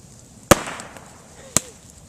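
Bamboo burning in a campfire bursts with two sharp, loud pops about a second apart, each a sudden crack with a short decaying tail over the quiet crackle of the fire.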